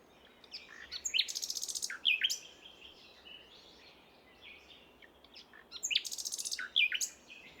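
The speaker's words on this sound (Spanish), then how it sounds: "dos o más motivos distintos ya forman una frase, el famoso ruiseñor común" A common nightingale sings two separate bursts of rapid, varied phrases, with trills and sharp whistled notes, clear against quiet natural background ambience.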